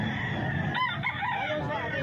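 A gamefowl rooster crows once at a busy outdoor poultry market in Grotto, Bulacan, its call rising over dense crowd noise and people talking.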